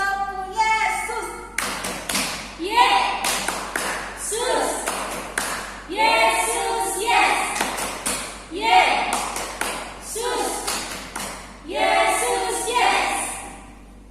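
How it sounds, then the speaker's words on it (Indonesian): During an online Sunday school session at home, children clap their hands in sharp pairs, twice per round, alternating with short sung chants in a repeating rhythm. "Ayo semua kita beri tepuk tangan untuk Yesus."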